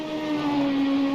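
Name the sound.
classic F1 race car engine braking, rFactor 2 video game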